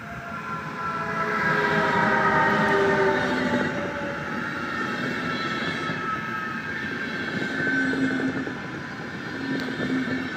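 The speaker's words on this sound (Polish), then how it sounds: "Nie, to jest pociąg RegioJet." A RegioJet passenger train rolls past with a steady metallic rumble and squealing wheel tones, holding loud for about ten seconds with no voices.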